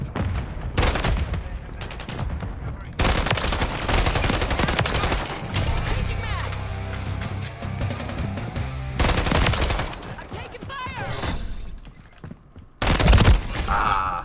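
Gunfire in the video game Modern Warfare 3, loud bursts of rapid automatic shooting broken by short pauses, with scattered single shots and game ambience between volleys.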